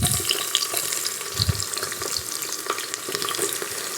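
Chopped onions deep-frying in oil in a pan for a Kashmiri onion-and-peas dish, giving a steady, close, hissing sizzle with small crackles throughout and no voices.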